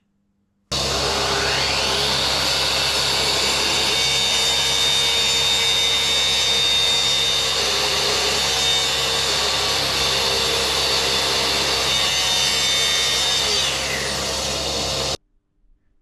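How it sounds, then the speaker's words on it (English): A track saw cuts through a scrap wood backboard in one continuous, loud whine lasting over a dozen seconds, starting and stopping abruptly, with no talking. "back out with the track saw now, just to cut the backboard"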